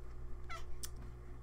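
A pet cat meows indoors, two short, faint mews close by against a quiet hum.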